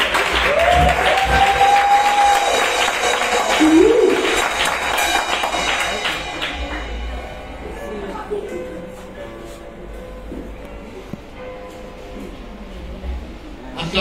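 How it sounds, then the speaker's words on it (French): Congregation clapping during a Sunday church service, loud and continuous for the first several seconds with a sung or sustained voice over it, then fading into quieter room sound with scattered taps and talk. "Applaudissez pour nous,"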